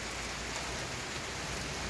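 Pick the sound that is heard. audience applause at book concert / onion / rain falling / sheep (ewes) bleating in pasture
rain falling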